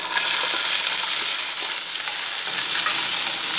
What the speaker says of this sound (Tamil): இது வந்து நல்லா சுக்காக காயறது வரைக்கும் நம்ம நல்லா ஃப்ரை பண்ணணும்.